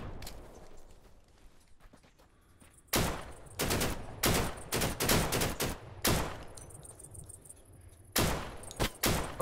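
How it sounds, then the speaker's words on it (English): Distant gunfire aimed at the player in the video game Deadside: a burst of loud, sharp shots in quick succession with brief gaps between them, alone with no talking. "Or is this guy shooting at us? Really far away, this guy."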